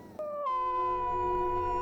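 A wild dog in a dark forest lets out a long, mournful howl that rises abruptly then holds a steady, tonal pitch, clear and fairly near, alone without talk.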